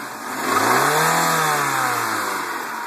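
A 2.2-liter engine in a 1996 Toyota Camry with a five-speed manual revs up from idle, swells to a steady high pitch, then eases back, loud and close, with a constant whine above the engine note.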